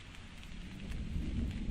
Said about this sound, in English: Because it's raining.